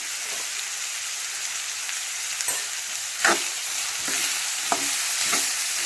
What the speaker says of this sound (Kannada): ಚೆನ್ನಾಗಿ ಎಣ್ಣೆ ಒಳಗೆ ಮಿಕ್ಸ್ ಮಾಡ್ಕೊಬೇಕು ರೀ